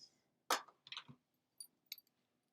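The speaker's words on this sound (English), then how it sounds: "scissors" Scissors handled on a stamping and card-making craft table: a few sharp, quiet metallic clicks and clinks in separate bursts, close by against near silence.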